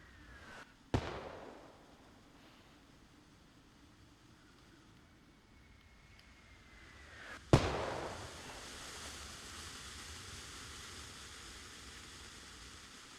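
Mortar illumination rounds fire in the video game Arma Reforger, heard as two sharp, distant reports several seconds apart, each trailing off into a soft, airy hiss over quiet ambience.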